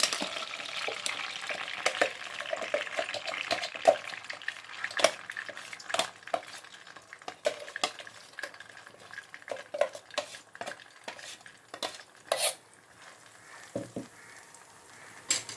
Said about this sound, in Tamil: நல்லா சேர்த்துட்டு வதக்கிக்கலாம் இந்த மசாலா வந்து பச்சை வாடை போகிற வரைக்கும் நல்லா வதக்கணும்